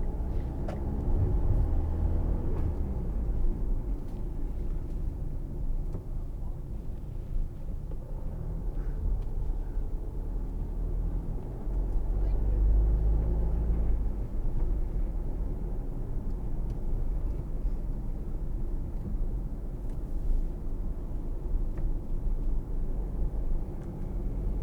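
A 2010 Mitsubishi Outlander 2.2 DI-D driving on the road, steady low cabin rumble of engine and tyres with a smooth, continuous drone and slight swells in loudness.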